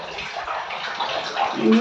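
Water pours steadily from a tap into a container, a dense close hiss and splash that rises in pitch near the end as the container fills to the top.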